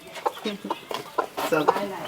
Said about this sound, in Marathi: तिथे कोंबड्या आहेत बघा छोट्या छोट्या कोंबड्या पिल्ले आहेत